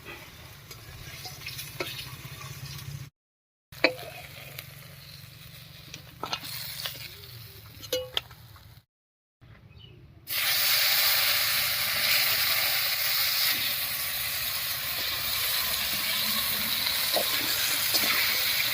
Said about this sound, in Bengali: মাঝে ভাজা এই তেলের মধ্যে ঝিঙেটা ভেজে নেব